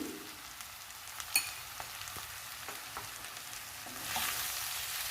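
A carrot and capsicum curry with ginger, garlic and lentil powder sizzles in a pan while a spoon stirs it, soft steady frying with a few scraping clicks and a louder sizzle near the end.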